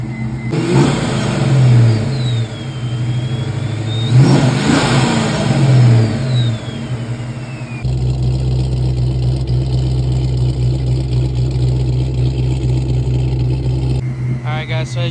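A Ford SN95 Mustang fitted with a Powerdyne supercharger revs loudly in two rising and falling bursts, with a whining blower, then settles into a steady, rumbling idle close by.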